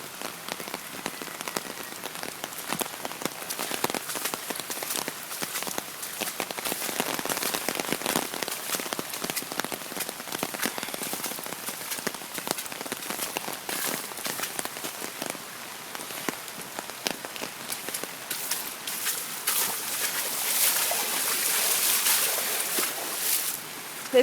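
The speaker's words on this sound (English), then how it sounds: "There's got to be at least 5 inches of rain coming down." Heavy rain pours down on Prospect Street in a dense, continuous hiss of drops pattering on surfaces, steady and loud for over twenty seconds, swelling slightly toward the end.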